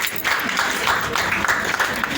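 Audience applause at a Longrich business seminar, a dense patter of many hands clapping steadily for about two seconds, moderately loud, with no speech over it.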